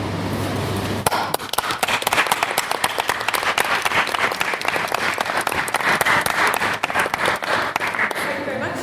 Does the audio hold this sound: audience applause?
yes